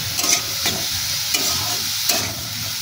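Sliced pointed gourd (potol) frying in a pan, salted and stirred with a spatula: a steady sizzle with periodic scraping strokes roughly every second or so, close up and with no talking.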